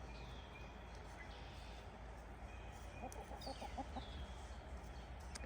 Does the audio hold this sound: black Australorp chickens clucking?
yes